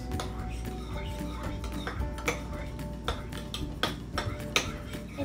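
Pickles and mayonnaise for tartar sauce stirred with a utensil in a bowl, light repeated clicks and taps against the dish at an irregular rhythm, close and fairly quiet, with a voice speaking softly in the background.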